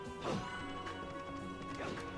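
Candles shatter in Castlevania: Curse of Darkness with sharp smashing impacts, one near the start and another near the end, over a quiet background of game music.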